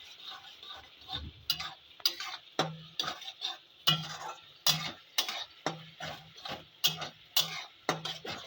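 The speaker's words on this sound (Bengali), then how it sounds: "এবার একবার ভালো করে নেড়ে দেখে নেব।" A spoon stirs onions frying in oil in a pan for duck curry, making sharp rhythmic scrapes and knocks about every half second over a soft, low sizzle, close and clear.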